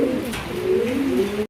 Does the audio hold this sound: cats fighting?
no